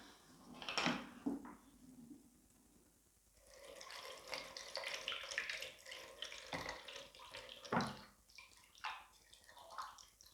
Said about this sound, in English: fill the base with water to give it the weight you need for your design to be balanced